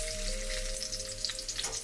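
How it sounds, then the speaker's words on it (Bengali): Potatoes sizzle steadily in a pan with the oil from fish, a Bengali dish, giving an even crackling hiss with some stirring and no talk. "এবার এই মাছের তেলটা দিয়ে আলুটার সঙ্গে ভালো করে ভেজে নেব"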